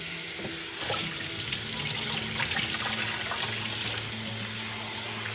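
Tap water runs steadily into a vessel as rice is washed in a home kitchen, a continuous close splashing and gushing rush that lasts throughout.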